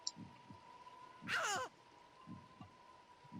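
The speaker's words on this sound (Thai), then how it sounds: "เวลามันมาก็จะมีเสียงหัวใจเหมือนใน Dead by Daylight นะครับผม" Soft, low heartbeat thumps pulse at intervals in the Slenderman Hide & Seek Online mobile game, marking an approaching pursuer. A loud, harsh cawing cry cuts in midway over a faint steady hum.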